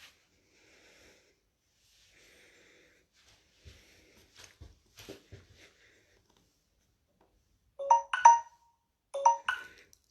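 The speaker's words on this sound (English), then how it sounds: "I just received a notification from Facebook there" A Facebook notification chime sounds on a phone, two short bright tonal bursts near the end after a stretch of near silence with faint soft rustles.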